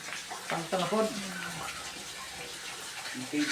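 Water runs from a tap into a bathtub, a soft continuous flowing rush, with a person speaking briefly over it near the start.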